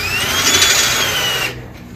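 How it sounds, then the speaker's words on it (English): A power drill bores out a broken bolt, whining steadily at close range for about a second and a half before winding down to a softer hum. "I'm going to drill in that direction."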